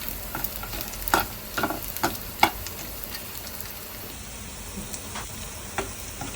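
Chicken sukha fries and gets stirred on a low flame, with a soft continuous sizzle broken by several distinct scrapes and clinks of a spatula against the pan, and no talking.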